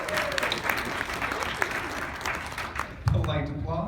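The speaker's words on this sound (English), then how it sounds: "Polite applause." Short, moderate applause from a small audience, a scattering of claps that thins out near the end as a voice begins.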